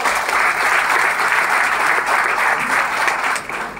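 Sustained applause from an audience at a business talk in a hotel hall in Dibrugarh, steady dense clapping throughout with no speech over it.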